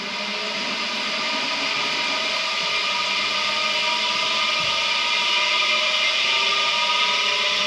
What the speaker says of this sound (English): So I'm just going to put that in my spin dryer.